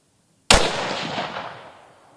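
A single loud rifle shot fired outdoors at target practice, a sharp crack after a moment of silence, trailing into a long fading echo.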